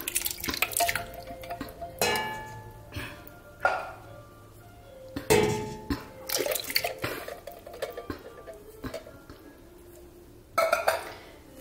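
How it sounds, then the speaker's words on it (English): Canned stewed tomatoes poured from the can into a pot, giving irregular wet plops, glugs and splashes in separate bursts with quiet gaps between, close by and moderately loud. "Then you want to add your can of stewed tomatoes."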